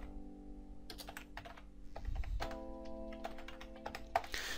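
A password is typed on a computer keyboard in quick bursts of light key clicks and taps, quiet and close, with a steady low hum in the background.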